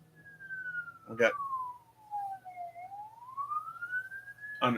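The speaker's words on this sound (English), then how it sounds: "Cops or ambulance or something go by, kind of drew my attention for a minute." A police car or ambulance siren passing by outside, a slow wailing tone sweeping down and back up, heard faintly through a window with a steady indoor hum and short noisy bursts.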